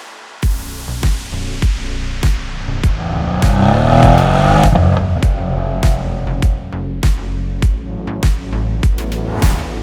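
A 2020 Mercedes-Benz C63 AMG S engine revs hard and close, with sharp repeated throttle blips and a swelling roar in the middle, punctuated by crackling pops and bangs.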